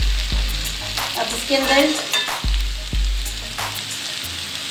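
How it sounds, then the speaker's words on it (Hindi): Mixed vegetables frying in a pan over medium heat, a steady close sizzle with a few sharp stirring knocks against the pan, while someone speaks briefly over it. "अब ये फ्राई हो रही हैं और आंच नीचे हम मीडियम रखेंगे"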